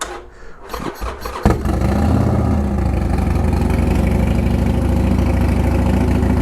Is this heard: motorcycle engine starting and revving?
yes